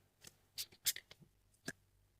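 Tarot cards drawn and slid out from a deck, giving a handful of short, crisp papery flicks and snaps spaced irregularly, close and quiet against a near-silent background.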